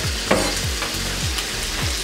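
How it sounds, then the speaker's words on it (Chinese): Chili peppers hit hot oil in a rural home kitchen wok, giving a loud steady sizzle with repeated scraping stir-fry strokes roughly every half second and no talking. "放辣椒喽！"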